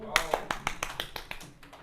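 A small classroom group claps briefly for a correct answer in a chemistry class, about a dozen quick, close, sharp hand claps over two seconds.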